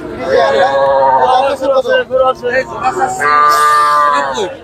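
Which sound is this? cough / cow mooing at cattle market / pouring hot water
cow mooing at cattle market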